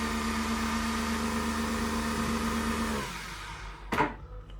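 An espresso coffee machine costing about £200 whirs steadily with a loud motor drone that drops off near the end, followed by a short sharp clunk.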